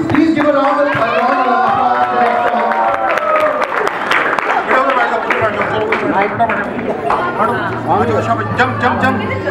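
An audience claps and cheers after a performance, dense close applause mixed with crowd chatter and voices throughout.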